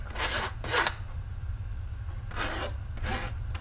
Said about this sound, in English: I'll try and scrape off some of that